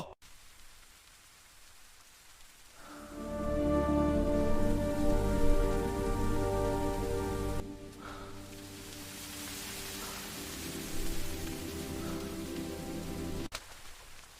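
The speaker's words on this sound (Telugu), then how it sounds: "వర్షం ఆగడం లేదు." Steady rain hisses throughout over a low humming drone that swells and then fades away.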